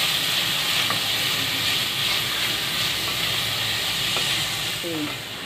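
Onions softening in a frying pan give a continuous, even sizzle with faint occasional clicks of a utensil and a short tonal squeak near the end.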